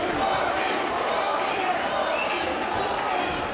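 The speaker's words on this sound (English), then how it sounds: "He can hear the crowd, Rocky, Rocky, Rocky, and he's fighting to t" A crowd at a bare-knuckle boxing fight makes a dense, continuous roar of voices and noise, heard at a distance and steady throughout.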